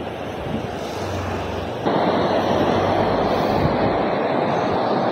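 Thoovanam waterfall roaring in a forest, a dense steady rush of falling water heard as constant broadband noise, growing louder and closer partway through with some wind buffeting.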